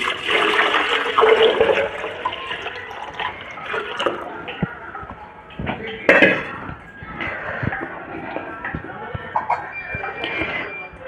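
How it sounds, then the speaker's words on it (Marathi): Water pours and splashes steadily from a filter into a pot, with a few clinks and drips, filling at moderate loudness for several seconds. "हे फिल्टरमधून काढून पाणी मग ह्या हंड्यात ओतते"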